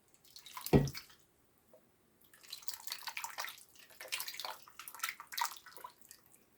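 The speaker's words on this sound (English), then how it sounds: "So I'm going to get my gravy broth mixture." Gravy broth mixture made with bouillon cubes is poured into a slow cooker holding a beef tenderloin: a sharp knock, then a steady, fairly faint splashing pour lasting several seconds, heard alone.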